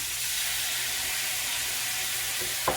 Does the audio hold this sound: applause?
no